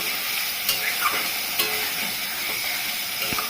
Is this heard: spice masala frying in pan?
yes